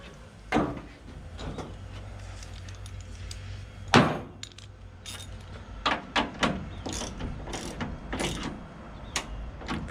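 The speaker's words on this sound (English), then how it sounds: "Slide those cams back and forth until you get them where you want it." Tailgate cams on a 1984 K5 Blazer manual tailgate being slid back and forth, giving repeated metallic clunks, clicks and scraping rattles at irregular intervals, close up over low background noise.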